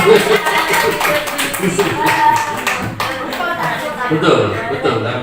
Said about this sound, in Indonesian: Beri tepuk tangan lagi untuk begitu.